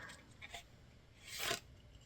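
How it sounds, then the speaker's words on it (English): Tarot cards are shuffled by hand in a few brief, quiet rasping bursts, ending in one louder ruffle near the close, with no talking. "As I'm shuffling out your cards"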